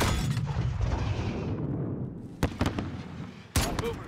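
A grenade detonates in a Call of Duty: Modern Warfare night mission, a loud rumbling blast at the start that fades into low roar, followed by sharp gunshot cracks.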